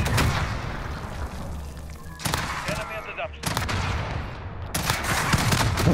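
Video game gunfire in rapid bursts and fusillades, loud sharp volleys separated by brief lulls, with a voice shouting excitedly over it.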